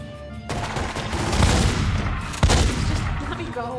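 Gunfire in The Godfather video game, a dense burst of shots with a sharp louder crack near the middle, set against a steady rumble.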